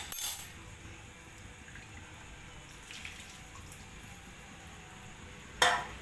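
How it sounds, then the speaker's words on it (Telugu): Water is poured into a pan of stuffed brinjal curry, a soft steady splashing and trickle running for several seconds with brief clatters at the start and end. "ఇట్లా మగ్గిన తర్వాత 2 గ్లాసులు నీళ్ళు పోసుకోవాలి."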